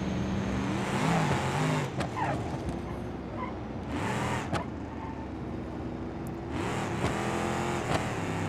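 Car engine revving in BeamNG.drive, a near, loud drone that surges and falls with rising tonal sweeps and a few sharp bursts, no talk.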